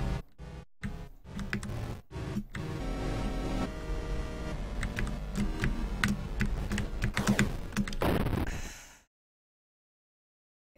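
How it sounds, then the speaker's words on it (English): Fast, heavy keystrokes hammer a computer keyboard during a horror game, a dense rapid clatter of clicks running for several seconds before cutting abruptly to silence. "I keep, like, slamming on the keyboard and it doesn't go fast enough."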